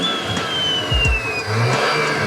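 A BMW S58 twin-turbo engine fitted with the T51R turbo mod rumbles low while a thin turbo whine slides downward, giving a breathy, vacuum-like hiss over a couple of deeper engine pulses.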